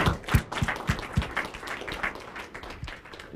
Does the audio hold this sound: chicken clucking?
no